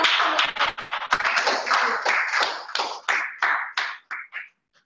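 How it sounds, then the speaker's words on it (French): A small audience gives applause at a glass-breaking special session, a burst of clapping that thins into scattered separate claps and stops. "Je vous prie d'applaudir."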